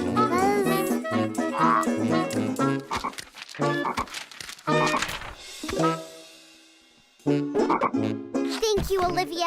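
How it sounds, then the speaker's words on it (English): Cartoon frog croaking in a series of short, loud croaks with jingling and other sound effects, ending in a few quicker croaks. "Francine, it's just a frog. A gross, icky, slimy, disgusting frog"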